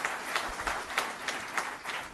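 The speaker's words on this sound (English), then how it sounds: "So please give him a big round of applause" An audience at an ICAI oath-taking ceremony gives a round of applause, heard as a brief, fairly faint patter of clapping at moderate distance.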